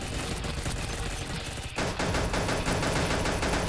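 Rapid automatic gunfire from a fire gun in the shooter game Pixel Gun, a dense, continuous stream of shots that briefly dips and then resumes just as loud, with no voices over it.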